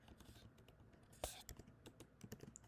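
Quiet typing on a computer keyboard, a quick irregular run of soft key clicks with one sharper tap, close and faint.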